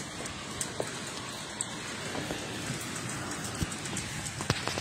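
Steady rain falling with a continuous broadband hiss and scattered drip taps, close and even throughout with no talk.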